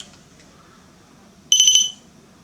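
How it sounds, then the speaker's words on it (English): A REM pod ghost-hunting alarm bursts on suddenly, a loud, close, shrill electronic beeping that lasts about half a second and then cuts off, following quiet room tone. "I'll switch it on just for a second, but it makes a hell of a racket until you put it down."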